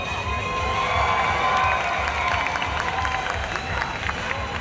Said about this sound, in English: Another round of applause. Team Ohm!